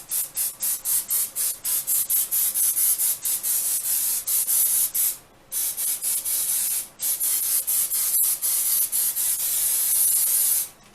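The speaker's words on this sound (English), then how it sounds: "So I'm going to go ahead and spray the waffle iron" Cooking spray hisses onto a waffle iron in a string of short, rapid bursts, broken by brief pauses, close and fairly loud with no talking.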